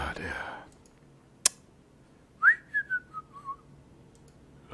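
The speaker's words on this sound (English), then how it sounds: "I wish I could whistle." A single sharp click is followed by a person whistling a short run of five or six falling notes, close and fairly clear against a quiet room.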